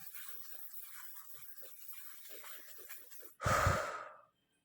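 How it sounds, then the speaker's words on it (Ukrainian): A person takes a deep breath in and out before drawing, with a soft, steady breath lasting about three seconds, then a louder, stronger exhale near the end, with no one talking. "Я роблю глибокий вдих, видих і малюю."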